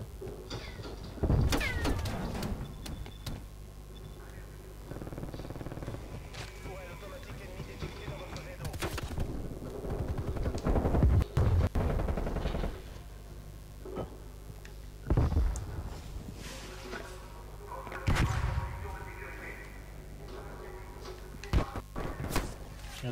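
Sniper shots and gunfire in Call of Duty Cold War multiplayer pop out as sharp, scattered cracks every few seconds over quiet game ambience, with someone talking in French between them.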